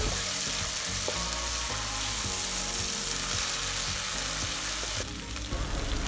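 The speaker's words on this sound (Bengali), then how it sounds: "এবার সবগুলোকে ভালো করে ভেজে নিব" Whole cardamom, cinnamon and bay leaves fry with ginger-garlic paste in hot oil for a rice-grits biryani, giving a steady, loud, close sizzle, with a few scraping stirs and a harsher surge near the end.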